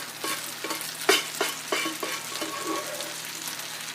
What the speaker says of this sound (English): I'm adding to the wok, it's actually 2 cooked cups of brown rice.